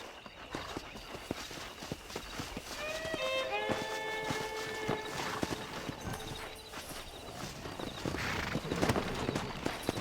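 Clip-clop of horse hooves in the Western video game Red Dead Redemption, a busy run of hoofbeats with a whinny midway and continuous outdoor ambience behind.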